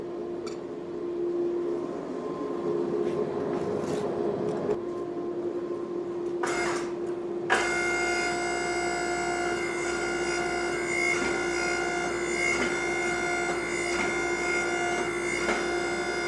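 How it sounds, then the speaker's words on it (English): A hydraulic press setting the forge weld on a ladder-pattern damascus billet runs as a steady mechanical drone with a constant hum, then shifts to a denser whine of layered tones partway through, with no talking. "I think I'm gonna set that weld one more time on the press."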